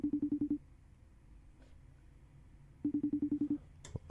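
A telephone ringing on an outgoing call gives two clear bursts of rapid pulsed ring tone, separated by a quiet gap of line hiss, and ends with a short click.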